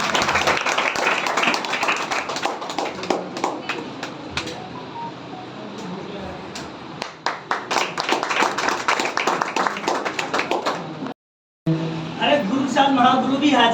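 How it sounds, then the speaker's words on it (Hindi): Audience clapping at a dance class opening ceremony in Jaunpur, bursts of sharp hand claps rising and falling in uneven waves with voices talking over them, then a brief dropout before more clapping and speech. "जोरदार तालियां बजाकर"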